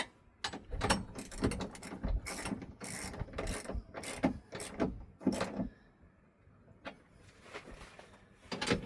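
Bolts on the frame of a Neis wagon being tightened with a ratcheting tool, with rapid clicking bursts close by, pausing briefly between runs and no speech.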